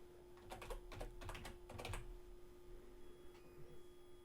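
Quiet typing on a computer keyboard, a quick run of soft key clicks in bursts for about two seconds, then fading to a few sparse taps over a low steady hum.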